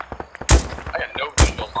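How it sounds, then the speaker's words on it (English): Video game gunfire arriving from several directions: two loud, close, booming shots stand out over a background of lighter scattered rounds and distant pops. "I'm hearing multiple directions of fire."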